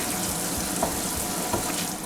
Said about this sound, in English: you just fill up your rag like that, and then so it has lots of water on it